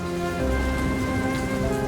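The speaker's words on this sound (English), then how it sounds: "The rhythm of droplets on the pavement echoes through the city's desolate alleyways" Rain patters on pavement in the World of Goo 2 video game, an even, continuous wash of droplets layered over a low tonal game-music hum, no one speaking.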